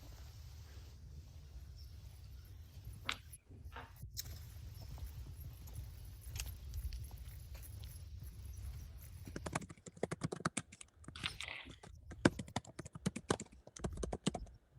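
Keys clatter faintly on a computer keyboard during an online call, first as soft scattered taps over a low hum, then as sharper, denser clicks toward the end.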